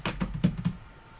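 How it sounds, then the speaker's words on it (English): Quick typing on a computer keyboard during a Linux command-line lesson, a short burst of about five close key clicks in under a second, then quiet. "Let me just type this in, because if I try and talk and type, you know what's going to happen."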